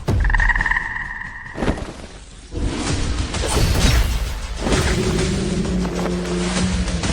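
A giant frog in an animated drama gives a deep croaking call at the start, then heavy rushing, splashing water noise and a whoosh follow and fill the rest, loud and close with no talking.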